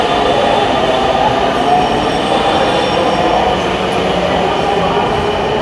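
A Dhaka metro rail train is heard from onboard, a loud, steady rumble of wheels and car noise with faint squeals and rhythmic rail clatter, carrying on without letup.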